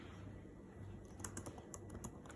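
Quick bursts of key presses on a computer keyboard as a database command is typed, faint and close over a low steady hum, with no voices.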